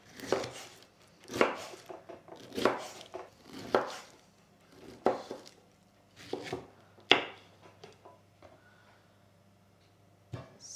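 A knife chopping a fresh pineapple into chunks on a cutting board: a series of sharp, close cuts and thuds at an uneven rhythm, with board knocks between them and no talking.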